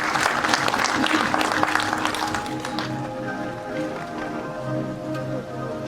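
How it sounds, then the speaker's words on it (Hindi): Dense applause from the audience at a film trailer launch event for "Emergency", strong for the first few seconds and then fading under a sustained musical drone. "जोरदार तालियां हो जाए"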